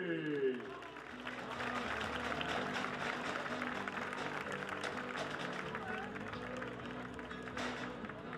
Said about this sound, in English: Applaudissements pour Monsieur Louis Bijourlet.